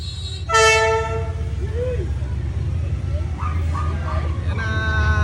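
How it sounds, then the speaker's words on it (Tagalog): A train in Vietnam sounds a loud, sustained horn blast near the start, then rumbles steadily past at close range, with people talking and calling out over the noise. "That's the train!"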